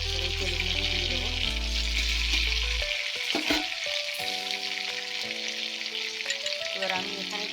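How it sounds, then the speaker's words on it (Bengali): Halved large tomato dropped into hot oil where raw green banana has been fried, giving a loud steady sizzle and crackle with spoon-stirring clatter, alone and close throughout. "বড় টমেটো, অর্ধেকটা দিয়েছি। এই তেলের মধ্যে দিয়ে দেবো।"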